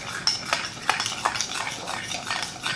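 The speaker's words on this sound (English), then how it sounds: "Now we're going to grab a spoon and mix this all together" A spoon stirs and scrapes through fish taco sauce in a bowl, giving a run of light clinks and soft scraping strokes, close and fairly quiet with no talking.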